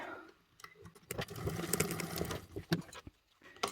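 A sewing machine stitches a 3/8 seam along a Travelnizer organizer, a soft close whirring in short bursts and stops, fairly quiet.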